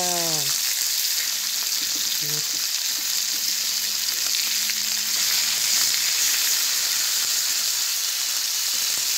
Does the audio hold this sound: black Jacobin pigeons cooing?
no